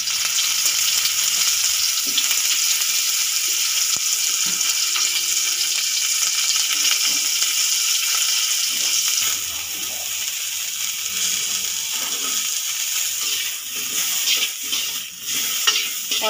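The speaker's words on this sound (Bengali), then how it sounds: "আমি ফুলকপিগুলো অল্প নুন আর হলুদ দিয়ে ভেজে নেব।" Cauliflower pieces with a little salt and turmeric fry in hot oil for vegetable khichdi, a loud, constant sizzle that eases partway through, with occasional stirring scrapes near the end.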